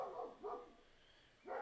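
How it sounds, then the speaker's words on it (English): A neighbour's dog barks three times in the distance, two quick barks followed by a pause and then a third, faint against a quiet room. "You can hear the neighbour's dog barking."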